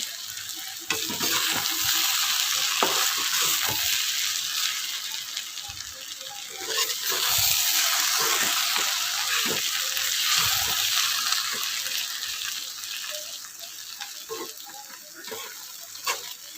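Poha stirred and frying in a pan over a slow gas flame, with a loud, dense hiss and sizzle running throughout and repeated clatters of a spoon scraping and knocking the pan.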